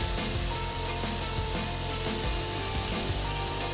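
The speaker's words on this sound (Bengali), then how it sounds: "এবার সবগুলো মিশিয়ে ভালো করে ওপর নিচ করে দেব" Vegetable fried rice being stirred and tossed in a pan gives a steady scraping and sizzling hiss, continuous and moderately close, with no talking.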